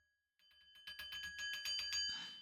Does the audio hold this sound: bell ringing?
yes